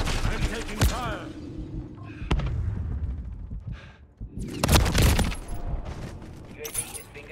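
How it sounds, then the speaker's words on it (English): Gunfire in the video game Warzone crackles in sharp bursts and bright broadband volleys over a dense mix of game noise and radio-style voices, with one loud cluster of shots near the middle. "I'm taking fire."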